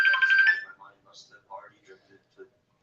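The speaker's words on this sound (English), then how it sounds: "My sister's on the phone." A phone rings loudly at the start with a bright, pulsing electronic tone, then fades as indistinct speech follows in short bursts.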